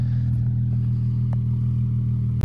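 Audi B5 S4 idling, heard from behind the car, a steady low exhaust drone with faint rattling ticks and a brief clunk near the end.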